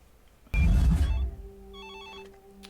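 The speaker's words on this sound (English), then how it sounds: "Answer the phone." Telephone ringing in a TV drama, a burst of ringing that starts abruptly, then fades into a steadier electronic trill, heard clearly at moderate loudness with no talk over it.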